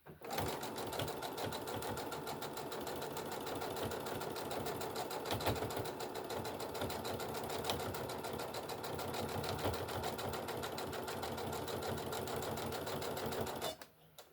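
A sewing machine stitches fabric in one long continuous run, its rapid mechanical chatter steady and close for most of the stretch before stopping abruptly near the end.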